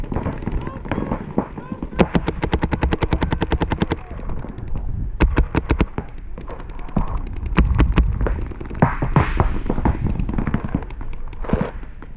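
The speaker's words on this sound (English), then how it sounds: "Hey, where's he shooting me from?" Gunfire in a shooter video game, with rapid automatic bursts and scattered single shots crackling in quick clusters, loud and close over a busy game background.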